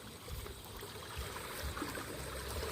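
Stream water flows steadily beside a fishing spot, a faint, continuous wash of rushing and gurgling without any clear pauses.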